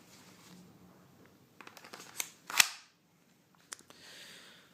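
Magazine seated into a Tokyo Marui Desert Eagle .50AE 6-inch airsoft pistol, heard as several small plastic-and-metal clicks followed by one sharp, close snap, then a few faint handling taps.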